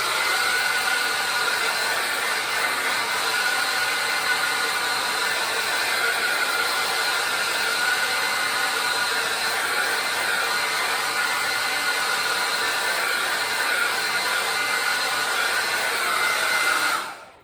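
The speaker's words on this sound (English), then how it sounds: "Now I'm gonna hit this with the blow dryer real quickly" A blow dryer runs steadily and loudly for about seventeen seconds, a continuous broadband whoosh drying fresh acrylic paint on an art piece, cutting off abruptly at the end.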